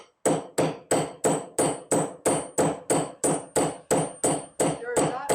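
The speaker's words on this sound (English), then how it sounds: "I'm going to get my hammer and knock those in real good" A small glazing hammer knocks something in with about a dozen sharp, evenly spaced blows, close and loud, each strike ringing briefly before the next.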